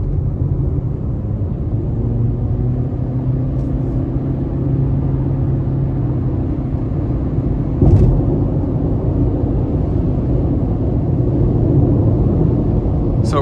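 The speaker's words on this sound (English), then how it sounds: "we're going to go ahead and give it some throttle getting on the interstate here" A 2025 Honda CR-V EX-L accelerates up an interstate on-ramp, heard from inside the cabin as a steady engine and road rumble that builds gently, with a brief knock midway.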